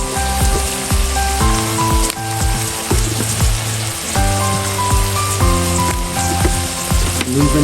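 Local chicken meat fries in a pan in Nepali village style with a loud, continuous crackling sizzle and spitting pops, over tonal background music throughout.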